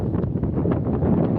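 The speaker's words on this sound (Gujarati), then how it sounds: "અવાજ તો આવતો જ છે પવનનો" Strong wind gusts across an open soybean field, buffeting the microphone with a steady, loud low rumble that never lets up.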